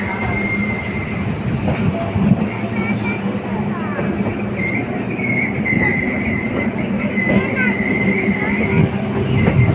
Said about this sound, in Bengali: ট্রেনে চেপে পড়েছি ট্রেন চলে যাচ্ছে